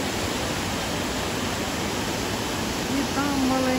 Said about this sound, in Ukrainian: Потужний теж водоспад, він не дуже високий,